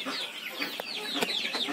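Laying hens of Arab and native village breeds cluck and chatter in a coop, several birds calling in overlapping short bursts close by, with a couple of sharper squawks rising above the steady flock noise.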